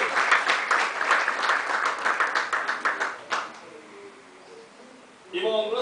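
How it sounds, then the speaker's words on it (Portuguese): A church congregation claps together for Jesus, a loud, steady patter of many hands that stops abruptly partway through, leaving quiet room tone before a voice begins to speak. "Nós aplaudimos Jesus."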